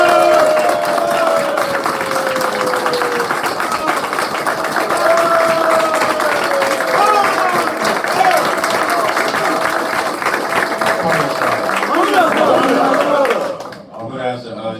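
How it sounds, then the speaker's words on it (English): A church congregation at a Sabbath service claps and calls out praise, sustained loud applause and voices mixed with music for most of the stretch, then cutting away near the end. "Give all claps and praises to Yahweh."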